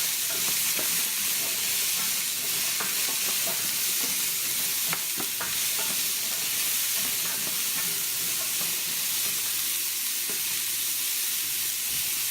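Diced onion, carrots and celery frying in a preheated pan, a steady broadband sizzle with scattered crackles and pops running the whole time, close and fairly loud, with no talking.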